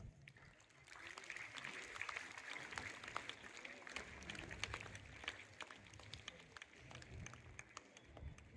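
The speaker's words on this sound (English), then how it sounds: "Let us all show our appreciation with a big round of applause." Faint, distant applause from an audience at a school Children's Day celebration, a steady patter of many hands clapping that carries on for several seconds.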